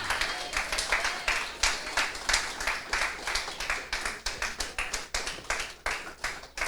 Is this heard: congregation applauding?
yes